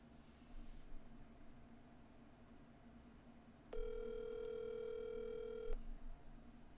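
A telephone call goes out while waiting for someone to answer: faint background hum, then a steady electronic ringback tone holds for about two seconds before cutting off.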